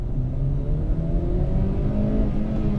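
A Hyundai Solaris engine is floored in first gear, a loud, close mid-pitched roar climbing steadily in pitch as it revs toward the limiter, with a rumbling throaty drone throughout.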